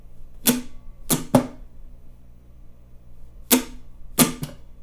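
Guitar strumming in a repeating down, up, mute pattern: two quick strokes followed by a percussive muted chuck, played twice, with brief pauses between.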